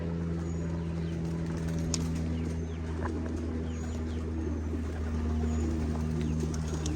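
Racing pigeons at a Capistrano Classic loft give scattered faint calls and coos over a steady low droning hum, with no talking.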